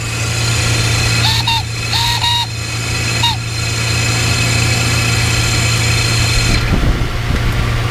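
A Mercedes S600 W140 V12 idles steadily up close during a throttle actuator test, its low hum running throughout, with a few brief electronic chirps early on and a rougher burst near the end.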